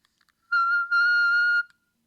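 A vocal coach sings a high whistle-register note around F6 as a pure, piercing tone. A short first burst breaks briefly and then holds steady for about two thirds of a second in an otherwise silent room.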